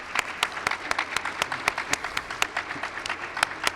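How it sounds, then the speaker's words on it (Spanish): Studio audience applause on a television quiz segment, a sparse, fairly faint patter of individual claps in an uneven rhythm with a few sharper ones standing out. "un aplauso"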